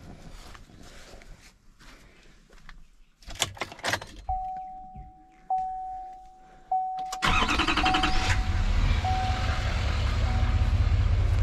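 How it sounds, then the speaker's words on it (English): A truck engine cranks and catches at about seven seconds, then settles into a loud, steady idle. Before it starts there are a few clicks and a sustained electronic beep. "So now that the truck is running,"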